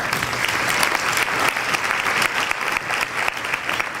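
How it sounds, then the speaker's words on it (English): Steady, dense applause from a dinner audience at a marathon event fills the whole stretch, loud and close, with no voices over it. "But a nice round of applause."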